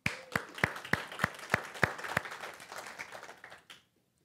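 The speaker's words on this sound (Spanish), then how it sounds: "Un aplauso." A small audience at a Spanish-language church talk claps. A few loud, evenly spaced claps stand out above lighter scattered clapping before everything stops abruptly.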